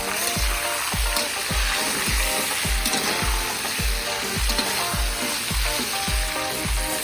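Lamb chops and potatoes frying in a kazan, a dense continuous sizzle with a regular series of low knocks as the food is mixed, close and steady, no voices.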